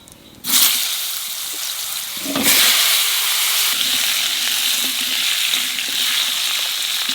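Potatoes, radhuni and bay leaves drop into hot oil with a sudden burst of sizzling that swells again moments later, then settles into a loud, steady frying hiss with faint stirring clinks.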